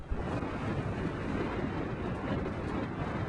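A Farrier F-41 sailing catamaran moving through the water, heard as a steady, loud rush of water and wind noise buffeting the microphone, continuous throughout with no talk.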